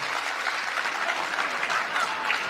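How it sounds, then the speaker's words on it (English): An audience claps in a steady, dense burst of applause lasting the whole moment, with no voices standing out. "why are they clapping?"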